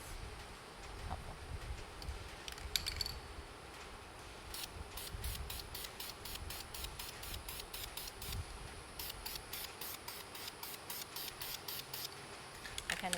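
Aerosol spray paint applied in short and longer hissing bursts as dusty coats onto car interior plastics outdoors in wind, with steady background wind noise and no talking.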